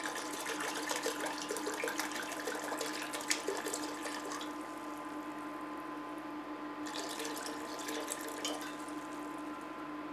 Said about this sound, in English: Now we're going to add the water. Then we're going to add the wine.